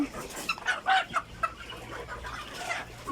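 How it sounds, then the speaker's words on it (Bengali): Young Egyptian Fayoumi chickens cluck softly in quick, scattered bursts nearby, with a faint low hum underneath and some quiet background noise. "এই যে মুরগিগুলো দেখতেছেন অরিজিনাল মিশরীয় ফার্মি মুরগির বাচ্চা"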